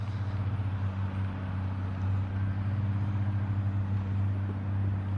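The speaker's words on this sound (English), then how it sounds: "You can see how good y'all can hear them pipes on that truck screaming." A truck's exhaust pipes drone with a deep steady pulsing roar near a road being rebuilt with a John Deere 853M, the throbbing low note holding throughout with no voices.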